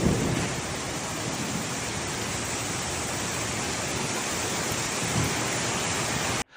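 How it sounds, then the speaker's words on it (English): Heavy rain and thunder from a severe thunderstorm with strong winds in Guangdong, China: a dense, steady roar of downpour fills the whole stretch, with a low rumble near the start and a brief surge later, no voices. "central and southern Guangdong experienced thunderstorms with wind speeds ranging from level 8 to 10"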